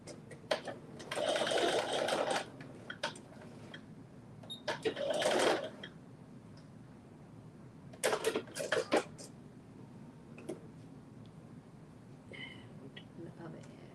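A sewing machine stitches the elastic-cased ends of a fabric sleeve in several short, quick bursts of rapid mechanical chatter, separated by pauses of quiet.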